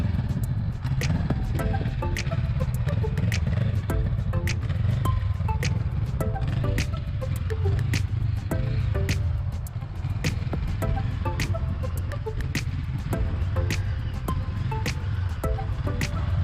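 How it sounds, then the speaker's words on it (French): A motorcycle idles and creeps through a slow-speed handling course, its low engine drone steady throughout with soft throttle changes and faint ticking, no voices. "maîtrise de la moto à allure lente, ce qu'on appelle communément le lent"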